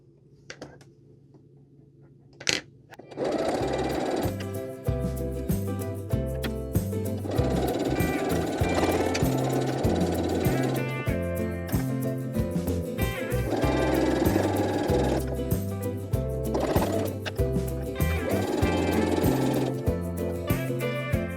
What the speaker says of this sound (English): And now we're going to sew all the way down this side.